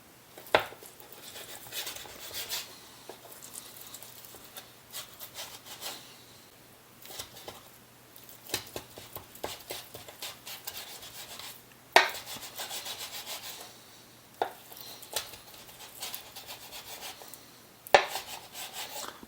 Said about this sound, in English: Basically chopping it into small cubes.